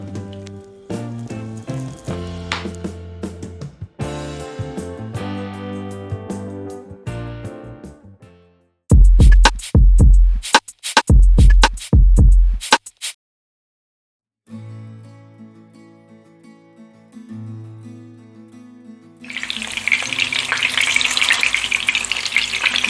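Meatballs frying in sunflower oil in a pan for Neapolitan sauce, a steady crackling sizzle with clunking bursts as they are turned, then a brief pause and a louder, brighter sizzle at the end.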